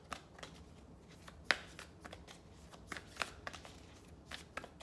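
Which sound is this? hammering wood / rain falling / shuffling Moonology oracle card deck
shuffling Moonology oracle card deck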